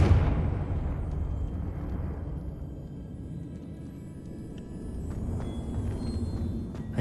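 A Confringo blasting spell in Hogwarts Legacy bursts with a loud, close explosion that quickly decays into a long low rumble, followed by scattered faint debris and crackles.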